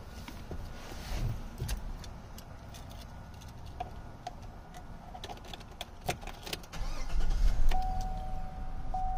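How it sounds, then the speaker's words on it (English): A 2014 Chevrolet Silverado 1500 LT pickup cranks and its engine catches, settling into a steady idle with ticking and clicks, close and moderately loud. "I'm gonna start it up for you."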